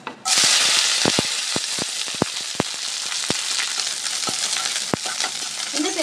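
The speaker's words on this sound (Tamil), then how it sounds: "வெங்காயம் எண்ணெயில் நல்லா வதங்கி வரட்டுங்க" Onions with curry leaves sizzle and crackle loudly in hot oil, with scattered sharp pops and a few stirring scrapes.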